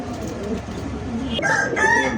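An almond-coloured male pigeon, one of the show or racing breeds, calls with short tonal notes that grow louder and clearer near the end, close by over a steady background murmur.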